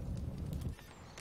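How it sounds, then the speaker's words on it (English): Horses clip-clop in the fantasy strategy game Dungeons II, a brisk run of soft hoofbeats in the foreground that thins out after a moment. "Horses."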